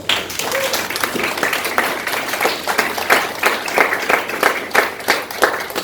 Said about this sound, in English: let's give a big round of applause for Mr. Hetal.